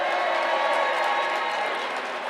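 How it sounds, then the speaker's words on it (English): A broad, even wash of crowd applause and clapping that holds steady for a couple of seconds. "Please clap for Tarana."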